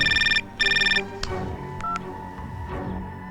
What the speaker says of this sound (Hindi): चल मणि को फोन लगा।